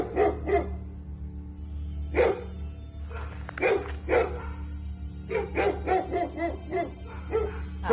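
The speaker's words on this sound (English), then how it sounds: "We got 3 dogs on the bear right now." Hunting dogs bark at a bear guarding her cub, sharp repeated barks in irregular bursts over a steady low outdoor hum, fairly close and loud.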